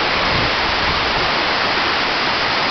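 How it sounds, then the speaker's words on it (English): Tahquitz Canyon waterfall in Palm Springs, a steady, full roar of falling water that continues evenly and fairly close throughout, with no voices over it. "over here there's the waterfall"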